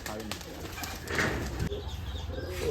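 Pigeons at a keeper's loft coo in low, throaty calls, close and moderately loud, with faint rustling and a hint of wing movement around them.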